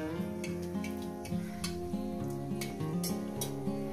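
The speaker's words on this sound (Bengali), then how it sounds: "দুটো শুকনো লঙ্কাটাকে কয়েক সেকেন্ড একটু ভেজে নেব।" Two dried red chillies fry in hot oil with a soft continuous sizzle and scattered tiny pops, heard under background music with no talking.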